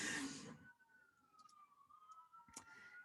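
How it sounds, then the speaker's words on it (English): A faint siren wails in the distance, a long sliding tone under quiet background noise, with a brief rustle at the start. "And I have sirens in the background."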